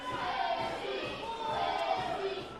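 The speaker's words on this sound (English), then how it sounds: "And there is that rumble in the room again, Tyler." Audience at a Pittsburgh wrestling academy match giving off a dense, continuous rumble of murmuring and shouting, fairly loud and steady throughout the short stretch.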